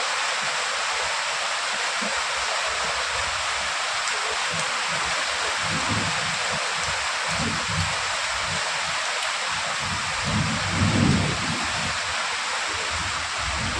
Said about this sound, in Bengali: কি বৃষ্টি হচ্ছে বাপরে বাপ, মনে হচ্ছে বন্যা হয়ে যাবে।